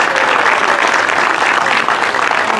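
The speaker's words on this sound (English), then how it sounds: "Let's give them a big round of applause." A crowd at a Furry Feud game show during a 2021 furry convention gives a big round of applause. The clapping is loud, close and steady, with no talk over it.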